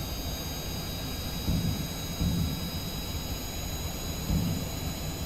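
An aircraft engine throttles up in the Kerbal Space Program video game, a steady, broad jet roar that swells slightly a few times and runs alone without talk.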